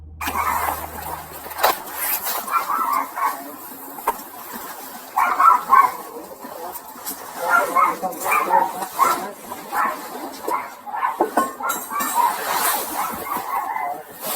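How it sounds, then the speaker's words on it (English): Two dogs inside a family house bark repeatedly in bursts with some whimpering, fairly loud and close, while a person speaks intermittently and a low engine-like rumble sits underneath. "the family has 2 dogs in the house"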